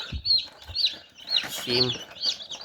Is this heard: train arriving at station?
no